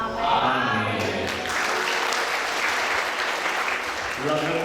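A church congregation at an Ascension Day service claps steadily, a dense sustained patter that fills the space, with a voice speaking and singing over the start and returning near the end.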